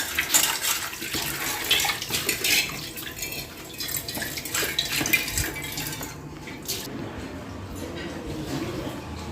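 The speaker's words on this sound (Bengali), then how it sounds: "সেই কারণে মা এখন ওই কাপড়গুলো ধুচ্ছে।" Water splashes and sloshes as clothes and a blanket are washed by hand, with irregular pouring and dripping, close and fairly loud, while a voice talks over parts of it.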